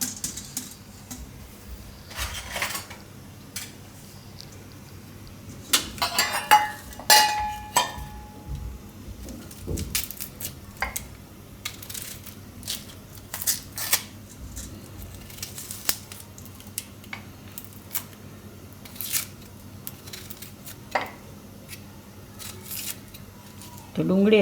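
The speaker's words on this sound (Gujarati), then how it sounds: "તો આ ડુંગળી છે એને આપણે સુધારી લઉં." A knife chops an onion into fairly coarse pieces on a board in a home kitchen, producing irregular sharp taps and clicks scattered throughout, with some talking at times.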